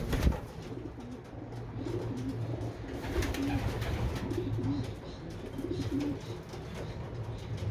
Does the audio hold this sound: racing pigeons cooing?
yes